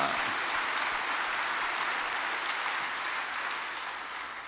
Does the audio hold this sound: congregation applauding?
yes